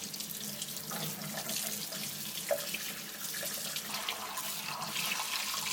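Steady running tap water splashing into a sink as a juicer strainer is rinsed, soft and continuous with faint clinks.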